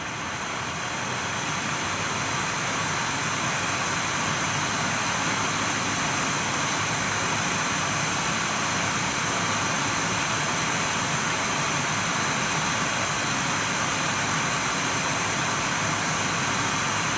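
An Nvidia GTX 980 reference graphics card fan runs at full 100% speed, giving a steady, loud broadband whoosh that stays constant throughout with no voices.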